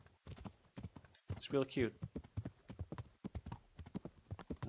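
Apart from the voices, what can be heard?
horse in Kingdom Come: Deliverance video game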